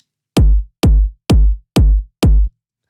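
Five punchy kick drum hits synthesized in Ableton, evenly spaced, deep and booming with a quick decay, alone with no other sounds.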